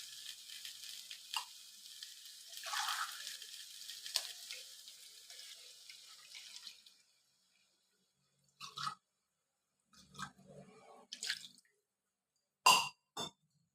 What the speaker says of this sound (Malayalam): ഈ മഞ്ഞൾപ്പൊടി ഇട്ട് കഴിഞ്ഞിട്ട് നമുക്ക് വെള്ളം ഒഴിച്ചു കൊടുക്കാം